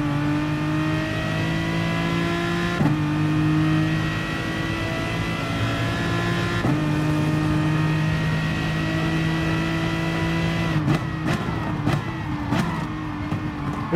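A racing car's engine, in an Aston Martin versus BMW race, drones loudly at a steady high pitch as it bounces against the rev limiter, with brief pitch drops at shifts and quick stuttering cuts near the end.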